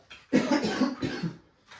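A few quick, dry coughs from a dry throat close up, clustered together, followed by a short pause and a softer cough.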